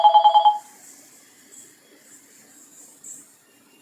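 A mobile phone rings in a short burst of five quick, evenly spaced electronic pulses, then stops, leaving faint background hiss.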